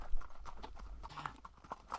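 Horses walk a trail in the Gila Wilderness, their hooves giving a steady, uneven clip-clop close by over low rumbling background noise.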